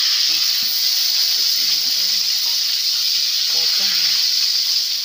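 Milkfish frying in a pan, giving a steady bright sizzle and hiss throughout, with faint low talk underneath.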